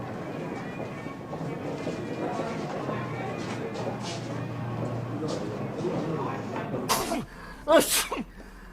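A man sneezes sharply near the end of a scene from a 1971 British television comedy, following a stretch of murmured background talk and room noise.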